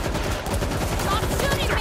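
Gunfire in the zombie shooter World War Z rattles in dense, continuous bursts for the whole stretch, loud and close, with voices talking over the shooting.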